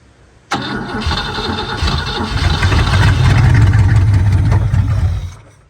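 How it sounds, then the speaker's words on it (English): A barn-find 1959 Cadillac V8 cranks and catches abruptly, then runs loud and rough up close, revving slightly before it cuts out. "That motor's actually gonna run."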